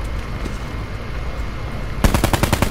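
In Call of Duty Black Ops 4 gameplay with the Swat RTF rifle, muffled game ambience gives way to a sudden loud burst of rapid automatic gunfire, a quick run of sharp shots in the final second.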